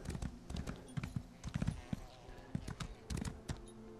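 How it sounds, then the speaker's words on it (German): Hooves clip-clop on a ridden horse in the video game Elder Scrolls Online, an uneven run of hoofbeats with some quieter game ambience between them. "Mann, nur rauf aufs Pferd. So. Wir reiten mal darüber."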